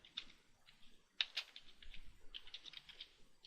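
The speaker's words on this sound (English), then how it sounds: "let me just type in flash website." Typing on a computer keyboard to enter a website search, a run of light close key taps in an irregular rhythm with a few slightly louder strikes, soft and with no one talking.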